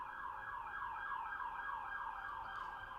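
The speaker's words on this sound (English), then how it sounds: "I hear the siren getting louder, getting closer to me, and thank God it's going away from me." An emergency siren passing by wails continuously, sweeping rapidly up and down in pitch, moderately distant with no voices.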